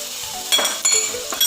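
Minced beef keema with cumin sizzling in a pan, a loud close hiss with a few quick stirring scrapes and light metallic clinks over a brief moment, no talk.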